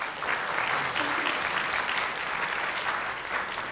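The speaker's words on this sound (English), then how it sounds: "a big round of applause for the governor of this great state of ours, Kathy Hochul" An audience at the Asian American and Pacific Islander Commission's inaugural meeting in Flushing, Queens gives Governor Kathy Hochul a round of applause: dense, steady clapping sustained throughout at an even, moderate level.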